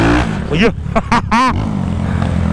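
A Today motorcycle left abandoned for a year revs its engine in a few sharp rising bursts close by, while someone talks over it.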